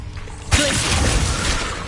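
A Glacius ice spell in Hogwarts Legacy lands as a sudden loud crackling shatter, a bright icy burst that hangs on as a dense hiss for over a second.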